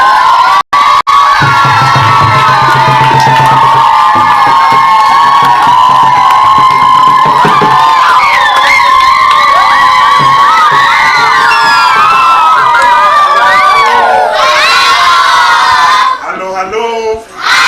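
Children at a children's home in Kenya cheer, clap and shout loudly to welcome a visiting politician, a dense, continuous crowd of young voices that drops away sharply near the end.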